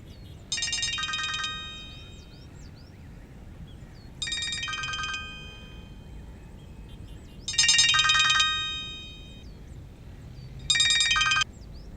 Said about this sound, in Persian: موبایلت زنگ میزنه؟